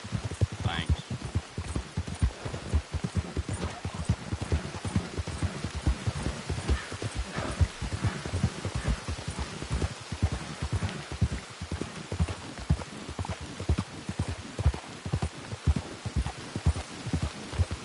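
Horse hooves clip-clopping steadily in rain in the Western game Red Dead Redemption 2, a quiet regular walking rhythm under a soft hiss of rainfall, with occasional voices nearby.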